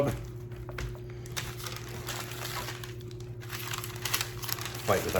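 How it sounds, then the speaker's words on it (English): Parchment paper crinkles and rustles as BBQ baby back ribs are wrapped, close and fairly loud, with a steady hum behind it and a sharper crumple near the end. "Fight with our parchment paper a little more."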